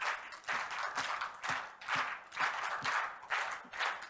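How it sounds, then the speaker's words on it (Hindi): An audience at the three-day Hindon festival claps in a steady rhythmic beat, about two claps per second, the sharp bursts evenly spaced and fairly close. "आज हम ऐसे ही बजाएंगे तालियां"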